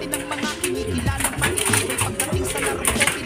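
Pigeons in a breeding loft coo and call steadily and close by, a dense, continuous layer of overlapping bird sounds with no pauses.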